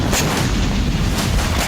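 Drone strike explosions tearing through oil depot tanks in Kharkiv, a continuous heavy roar of blasts and rumbling fire, loud and dense throughout with no pauses.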